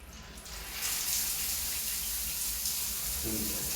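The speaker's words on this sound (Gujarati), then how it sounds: "સો એ ગેસ ફુવારો અત્યારે ફિટ થઈ ગયું છે અને આપણે જોયું કે પાણી કેવું આવે છે" Water pouring steadily from a newly fitted gas-heated shower, a continuous broadband hiss that swells after the first second and stays loud and even to the end, with no talk over it.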